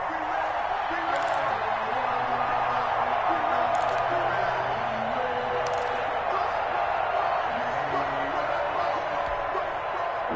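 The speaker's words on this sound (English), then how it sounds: "The crowd getting into it as we come up on a big 3rd down." A stadium crowd at a football game roars in a steady, sustained wash of cheering and whooping ahead of a big third down, with a commentator talking over it.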